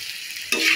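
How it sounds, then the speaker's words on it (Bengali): Lightly salted onion frying in a pan hisses steadily, then a sudden louder burst of sizzle as it is stirred, close and without talk. "এবার ভালোভাবে পেঁয়াজটাকে ভেজে নেব।"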